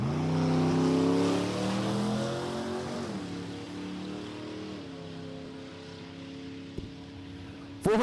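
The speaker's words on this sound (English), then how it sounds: "Tom's driving the Ford Zilla over here in the Land Pro left lane." A Ford Nostalgia Gas drag racing car at a dragstrip, with a loud engine roar that rises and shifts in pitch as it launches, then a sustained, gradually fading drone.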